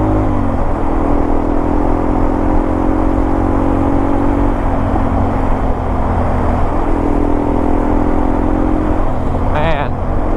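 A Yamaha motorcycle engine drones steadily and close up while riding forest switchbacks in the Talladega National Forest, its pitch rising and falling gently as the throttle changes, with continuous wind-like roar underneath.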